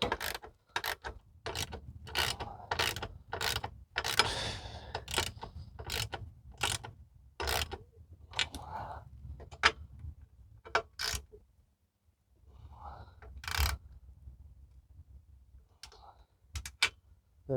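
A socket wrench ratcheting under a Ford Flex gives a steady run of crisp, close clicks in short strokes, with brief pauses and one longer gap near the end.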